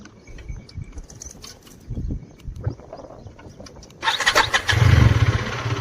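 A new motorbike engine cranks and catches after several seconds of handling noise and faint birdsong, then settles into a loud, close, rumbling idle.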